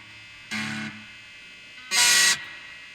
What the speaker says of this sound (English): Let's listen to the reverb and see if it works.